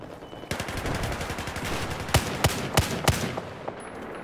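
Scar H rifle fire in a video game: several sharp, loud shots rip out in quick succession, with a cluster of distinct cracks near the middle over a constant noisy background, and no talking.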